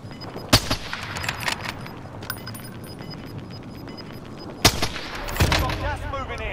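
Scattered gunshots in a Call of Duty match, sharp isolated cracks and short bursts, some near and loud, others distant, with faint clinking and a voice speaking intermittently.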